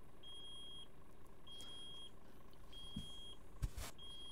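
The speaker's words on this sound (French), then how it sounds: "ça m'affiche break air avec la sonnerie" A repeating warning chime for low brake air pressure sounds inside a truck cab in Euro Truck Simulator 2. Steady beeps recur at even intervals over a low engine drone, with a brief louder burst near the end.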